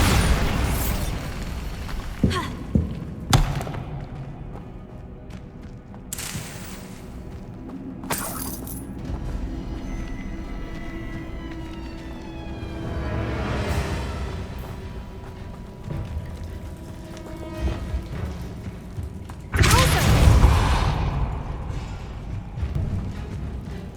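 In Hogwarts Legacy, Bombarda spell blasts go off as a string of sharp bursts and rumbling booms, with quieter stretches between them and the loudest explosion near the end.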